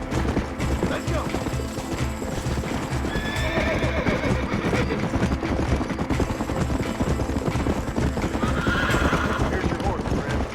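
A horse in Red Dead Redemption, the video game, whinnies loudly and close over a dense, continuous clatter of galloping hooves, with engine-like rumble and scattered background game effects throughout.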